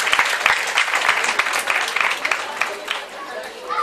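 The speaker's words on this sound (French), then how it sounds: "Merci de l'applaudir" An audience at a partnership ceremony claps warmly for a doctor, the dense applause mixed with crowd murmur and someone speaking over it.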